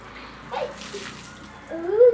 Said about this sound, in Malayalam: ഞാൻ വെള്ളം എടുത്ത് പിന്നെ അവന്റെ മേലെ ഒഴിക്കാം